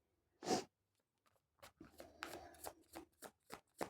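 Tarot cards are handled and shuffled close up: one brisk riffle, a brief pause, then a run of soft papery flicks and slides, all quiet.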